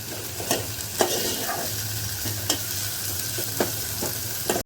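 A spoon stirs ginger-garlic paste and a spice mixture in a hot pan, with steady sizzling and frying and regular scrapes and knocks against the pan, close up and with no talk.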